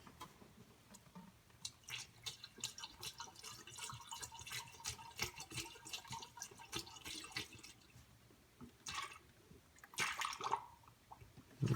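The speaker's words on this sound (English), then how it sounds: "We're going to keep filling this up." Coolant pours into the radiator of a 1996-2004 Mustang Cobra or Mach 1 with a 4V DOHC engine, gurgling and dripping close by in uneven spurts, with no talk.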